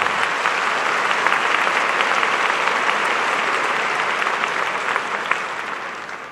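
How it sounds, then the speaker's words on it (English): A crowd at a high school graduation ceremony applauds loudly, a dense and steady wash of clapping that fades slightly toward the end. "that does deserve applause"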